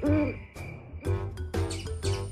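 Repeated low hoots of an owl at night, several evenly spaced calls about half a second apart, fairly close and clear over a soft background.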